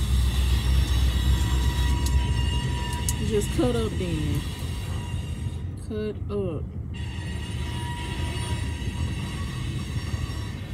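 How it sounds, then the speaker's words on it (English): A train passes near a parked truck at a stop, a loud continuous rumbling roar with brief squeals and a high hiss, while a person speaks a few words over it. "Y'all hear this train?"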